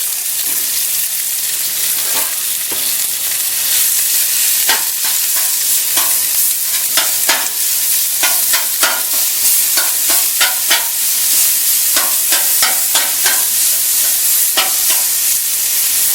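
Ground beef and mushrooms sizzle loudly and steadily on a Blackstone flat top griddle, with a dense crackling hiss broken by sharp scraping clicks from a spatula stirring the meat.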